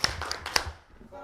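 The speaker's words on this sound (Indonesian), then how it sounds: "Kalau siap belajar tepuk tangan." A few sharp hand claps in a classroom poetry lesson, spaced irregularly and mixed with speech, then fading into a quieter tone.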